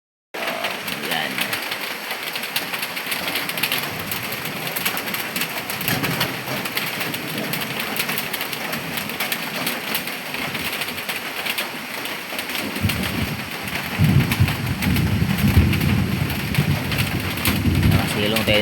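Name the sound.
heavy rain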